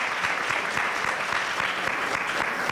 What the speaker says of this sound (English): let's give this panel a round of applause before we go into questions